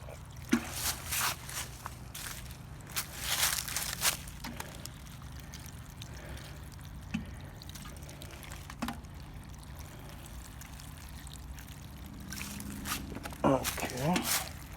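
Water pours onto the ground beside lettuce in a garden bed, a soft splashing trickle in brief bursts with quiet handling noises and a voice near the end.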